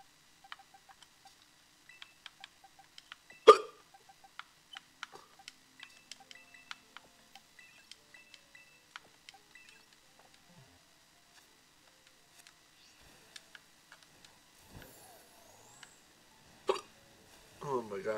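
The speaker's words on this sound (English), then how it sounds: "Hiccups." Repeated sharp hiccups from a person playing a video game, short bursts scattered through the clip with quiet gaps, one louder spasm near the start and a cluster toward the end.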